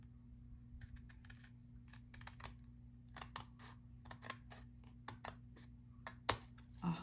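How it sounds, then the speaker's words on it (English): A run of crisp scissor snips cutting through paper, irregular and close, over a steady low electrical hum. "Just get the long scissors out."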